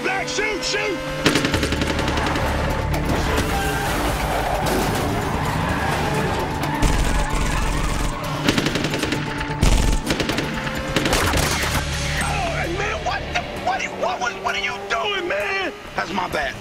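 Gunfire crackles in bursts through a loud Miami freeway car chase shootout, with engine roar, skidding tyres and crashes, while people shout over the din.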